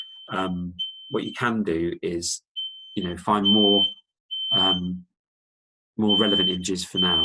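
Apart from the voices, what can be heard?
smoke alarm beeping, dinner burning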